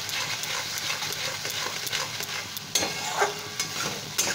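A turmeric spice paste is stirred and fried in a pan for a Bengali fish dish, giving a steady close sizzle with scraping spoon strokes and a few sharper knocks toward the end.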